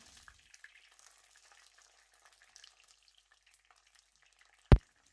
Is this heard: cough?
no